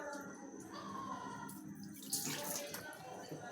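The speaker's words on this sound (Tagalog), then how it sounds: "Konting tubig na ilalagay natin." Water pours into a cooking pot for boiling corn with a soft splashing rush, fairly quiet, building briefly toward the end.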